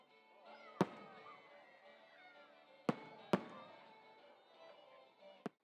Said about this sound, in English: The event ended with a 10-minute fireworks show that lit up the night sky.